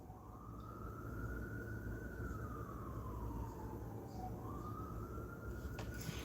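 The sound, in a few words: siren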